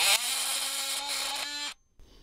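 A carbide titanium oscillating tool blade cuts through a small nail, giving a loud, steady high-pitched buzzing whine that holds for about 1.7 seconds, then stops abruptly and leaves a faint tail of residual noise.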